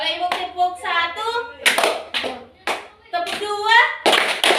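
Schoolchildren playing an ice-breaking clapping game in class produce a few sharp, loud bursts of group clapping, separated by a voice giving instructions.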